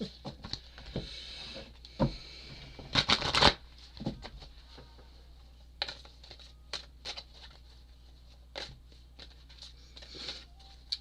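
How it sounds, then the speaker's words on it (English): Tarot cards being shuffled close up: a dense riffle burst in the middle, with scattered soft taps and slides of cards before and after. "I'll put those down for you to look at until I shuffle the rest."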